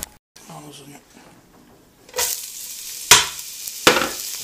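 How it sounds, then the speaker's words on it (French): Onions and sliced leeks sauté in a pan for an Italian minestrone, giving short bursts of sizzle and crackle after a quiet start, with talk nearby. "on va commencer par faire revenir les oignons avec les poireaux émincés pendant quelques minutes"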